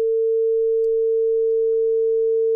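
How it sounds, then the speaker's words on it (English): A sound generator emits a pure, steady 450-hertz tone that holds loud and unbroken from start to finish. "Here's 450 hertz. It sounds like this."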